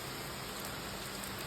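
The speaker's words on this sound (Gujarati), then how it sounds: "અત્યારે જો કેવો ધબધબાટી વરસાદ આવ્યો" A heavy downpour falls in a village setting near farm fields, giving a dense, steady broadband hiss of rain that stays even and unbroken throughout, with no voices.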